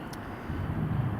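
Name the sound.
Ryanair airliner from Malaga on landing approach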